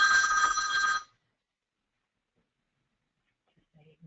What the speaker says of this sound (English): sorry, I had my phone ring.